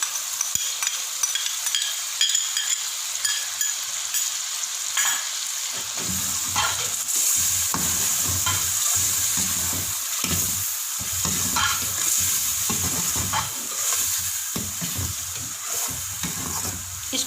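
Tomato paste stirred into mutton frying in a pan, a continuous close sizzle with scraping stir strokes that get louder and more rhythmic partway through, without any speech.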